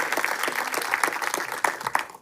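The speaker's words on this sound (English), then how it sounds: "So I would like you to give applause to Ihor" An audience at a museum conference panel in Tartu, Estonia applauds, with brisk, fairly quiet clapping from a modest crowd filling the whole moment.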